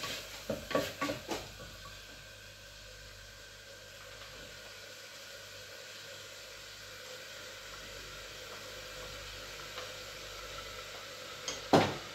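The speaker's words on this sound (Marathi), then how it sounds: "सो आता आपण टाकतोय ही मिक्स व्हेजची भाजी" Mixed vegetable curry tipped into a hot pan, giving a few clattering knocks at the start, then a steady low sizzle under stirring and a sharper scrape near the end, with no talking.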